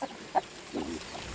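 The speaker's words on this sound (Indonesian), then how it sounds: "ayam bibit-bibit Bangkok teman-teman" Bangkok breed chickens cluck softly nearby, with a few short, separate clucks over a quiet background and no talking.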